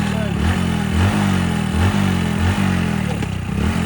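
A motorcycle engine revving with the accelerator, a loud close rhythmic chug that rises and falls in repeated pulses, with voices mixed in.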